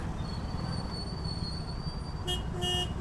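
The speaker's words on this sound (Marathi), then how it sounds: "सगळ्या बाजूने ट्रॅफिक ट्रॅफिक." Steady road traffic rumble surrounds a motorcycle ride in heavy rain, then a vehicle horn honks twice in quick succession near the end, fairly close and loud over the background noise.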